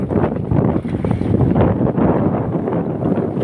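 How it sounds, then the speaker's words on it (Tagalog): Loud, continuous rush of wind and churning water on a moving boat, with heavy buffeting across the microphone throughout. "Malakas ng alon."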